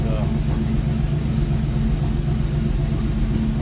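Chevrolet Suburban V8 fitted with an Edelbrock carburetor, running with a steady low rumbling drone throughout, loud and close, with no break in the sound.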